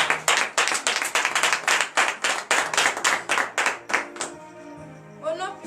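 A church congregation at a Saturday morning prayer service in Benin claps together in a steady, fast rhythm for about four seconds, then the applause stops and a few tonal sounds follow.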